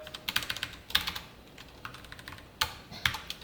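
Quick, uneven bursts of keystrokes as C code is typed on a computer keyboard, close and crisp with short pauses between clusters.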